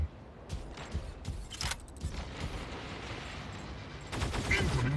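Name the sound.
gunfire in the video game Mech Arena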